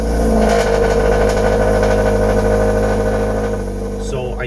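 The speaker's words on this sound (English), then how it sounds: "So I just started up the car because it's very cold" A Mazda 3 with a Skyactiv engine running just after a cold-weather start, with a steady, loud, close idle drone throughout that eases slightly near the end.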